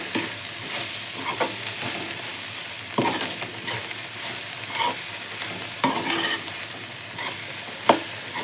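A spoon scrapes and stirs shredded cabbage fry with crushed kasuri methi in a pan, a soft ongoing sizzle punctuated by several sharper scraping strokes at irregular intervals.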